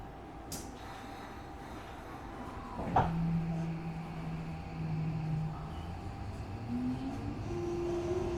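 Tokyo Metro 17000 series Yurakucho Line train pulling out of the station, a sharp clunk followed by a steady low motor hum that rises in pitch as the train gathers speed over continuous rolling rumble.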